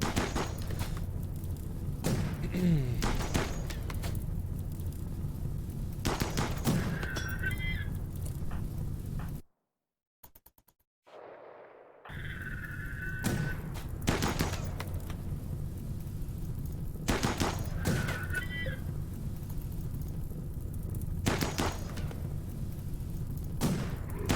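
Gunfire and thudding impacts from a battle in the video game RimWorld, with scattered shots and bird-like chirps repeating over a steady background, broken by a brief dropout midway, and no talk.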